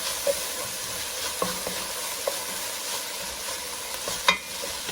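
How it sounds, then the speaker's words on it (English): Green chili and ginger paste is tossed in a pan while cooking a spicy lamb shank curry, giving a soft steady sizzle with a few light scrapes and clicks of stirring. "Give that a quick toss."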